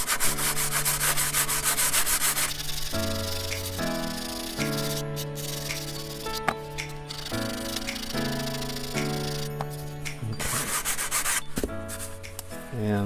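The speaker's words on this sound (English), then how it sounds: "I'm going to go ahead and sand off this little edge" Sandpaper rubbing along the edge of a balsa wood wing for a Balsa USA Smoothie RC plane kit, repeated scratchy strokes at close range, heard over steady background music.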